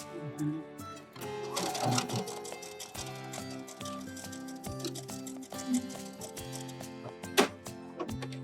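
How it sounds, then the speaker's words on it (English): A sewing machine stitches a straight seam through fabric, likely while attaching Ban-Rol waistband stiffening, running steadily with a busy mechanical whir and clatter over several seconds alongside other tonal sounds. "And then I'm sewing nice and straight"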